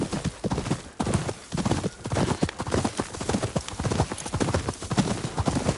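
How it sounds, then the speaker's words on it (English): Horse hooves clip-clop at a steady trotting rhythm in the video game Ghost of Yotei, close and clear, with a brief whinny mixed in. "Your horse is fond of you."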